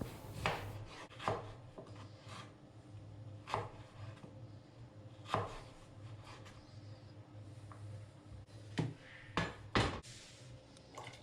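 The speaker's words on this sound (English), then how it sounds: "followed by fresh ginger, sliced nicely and thinly" Fresh ginger sliced thinly with a knife on a cutting board, quiet irregular taps and soft scraping strokes at close range, sparse and unhurried with no talking.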